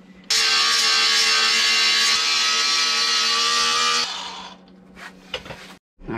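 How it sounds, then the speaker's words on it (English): An angle grinder with a flap disc grinds down metal parts on a homemade snowmobile build: a loud, steady, close whine for about four seconds, then it winds down, followed by a few knocks and clatters. No talking. "now I gotta just grind some of this down with a flap disc"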